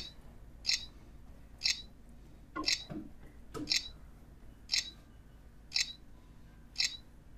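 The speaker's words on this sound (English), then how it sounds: "I want you guys just to hear for the shutter noise on the Z10" Seven crisp BlackBerry Z10 smartphone camera shutter clicks, evenly spaced about a second apart, with a faint background hum between them.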